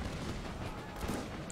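Mortar fire in Empire: Total War during a Bavaria campaign battle: a dense, continuous wash of distant booming artillery and gunfire rumbling steadily without clear pauses.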